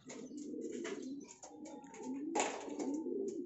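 Soft, repeated cooing of young pigeons, several throaty coos overlapping, close and fairly quiet with faint rustling.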